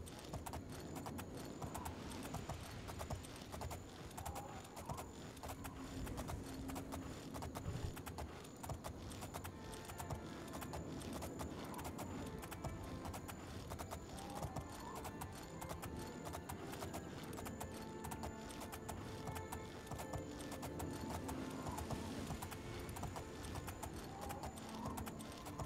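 A horse's hooves clip-clop steadily in the video game Oblivion, a continuous rhythmic stream of hoofbeats under faint game ambience and music, running the whole stretch without talk.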